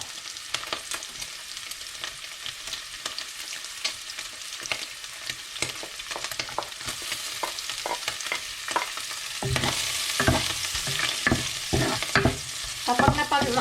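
Garlic frying in a pan while being stirred, with a continuous sizzle broken by frequent scraping and clattering stirs that grow busier and louder toward the end, no voices.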